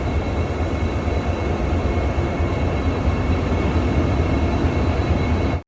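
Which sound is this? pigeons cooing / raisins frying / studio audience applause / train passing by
train passing by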